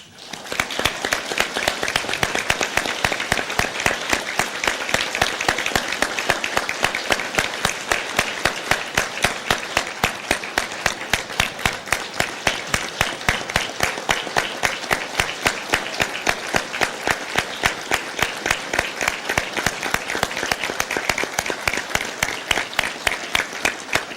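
A Rotary club audience gives two members a long, even round of applause. Dense clapping runs steadily without pause for the whole stretch and is loud and close.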